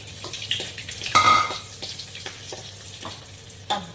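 Garlic and onion sauté in hot oil, a near sizzle with bursts of spatter and scraping strokes, one louder hiss flaring briefly before settling.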